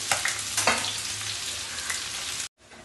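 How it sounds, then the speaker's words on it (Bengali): Onions fry in hot oil in a kadai with a dense, close sizzle and a few stirring scrapes, then the sound cuts off abruptly near the end. "পেঁয়াজটা লাল করে ভেজে নেব।"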